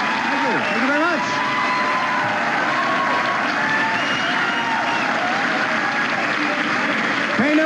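Steady studio audience applause at a comedy show, dense sustained clapping at an even level with voices heard over it.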